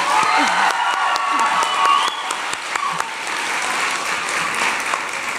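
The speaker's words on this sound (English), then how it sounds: "Round of applause." An audience at a teen press conference for authors claps in a steady burst of applause with some light cheering, fairly close and lively, easing slightly toward the end.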